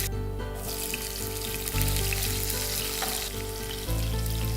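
Onions hit hot oil with cumin and fenugreek seeds and set off a loud, dense, continuous frying sizzle that stays close and steady throughout.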